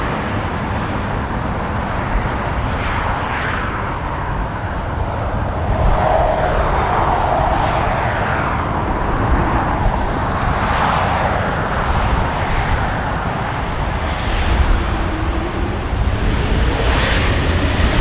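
A Delta airliner landing on runway 24 right at Los Angeles International Airport, a loud, broad engine roar that holds steady throughout with slow swells, heard without talking.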